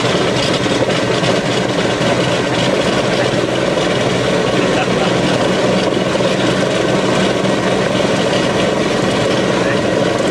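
A Lockheed Super Constellation's big radial piston engine runs loud and steady close by, a dense continuous roar that fills the whole stretch, with a voice talking over it.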